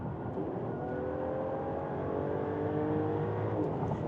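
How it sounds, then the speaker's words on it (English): A 2024 Mercedes-Benz E450 4Matic with a 3-liter mild-hybrid inline-6 pulls under acceleration, a smooth, steady engine drone with rising harmonic tones, heard from inside the cabin and alone without talk. "The E450's 3-liter inline-6 engine is not only powerful, but also very silky smooth."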